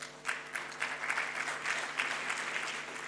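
An auditorium audience applauds at a comedy talk, a steady wash of many hands clapping at moderate volume for about three seconds, with no voices over it.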